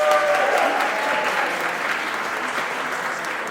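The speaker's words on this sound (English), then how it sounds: "Yes, a round of applause." A crowd at a fundraising gala applauds in a thick, continuous wash of clapping, loud and steady, easing slightly over three and a half seconds, with a faint tone running briefly underneath.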